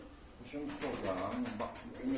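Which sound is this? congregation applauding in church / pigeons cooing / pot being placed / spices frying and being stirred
pigeons cooing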